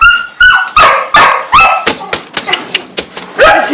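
A puppy gives a quick series of sharp, high yips and barks, loud and close, with a short pause between each bark.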